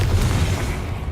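A Confringo fire-blast spell in the video game Hogwarts Legacy lands as a deep, rumbling boom, loud and sustained across about a second with no voices over it.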